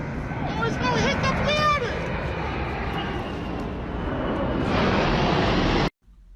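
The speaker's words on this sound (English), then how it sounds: "Low-flying airplane noises" A low-flying fixed-wing airplane roars overhead, loud and continuous, with sweeping engine whine rising and falling over a crowd's murmur before the sound cuts off abruptly near the end.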